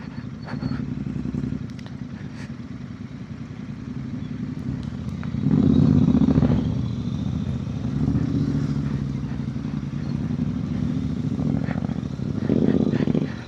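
Royal Enfield 650 twin motorcycles rumble in a large group ride toward Kethanahalli Falls, a deep, steady exhaust drone with louder surges as nearby bikes pass, heard from the saddle amid wind noise.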